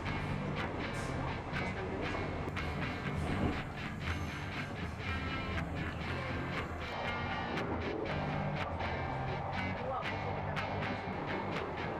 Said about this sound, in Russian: Очень надеюсь, что это мой поезд